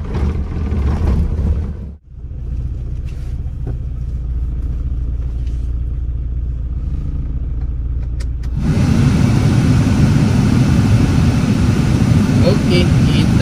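A Toyota Starlet EP71 that has sat unused for two or three days is started and left to warm up. The engine gives a loud, steady rumbling idle close by. A brief dip comes early, and the engine grows louder and rougher in the last few seconds.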